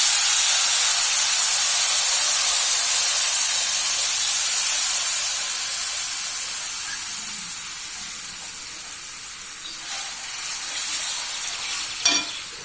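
Soaked, dissolved tamarind extract hits a hot pan for puliyodharai paste, giving a loud, steady, hissing sizzle that slowly fades. A few faint clinks of a utensil come near the end.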